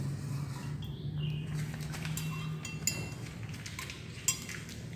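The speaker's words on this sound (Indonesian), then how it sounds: "Kita aduk ya." A hand sanitizer mixture made to a WHO recipe in a school lab, stirred in a container: soft scraping swirls with a couple of faint glassy clinks, close and quiet, with no voices.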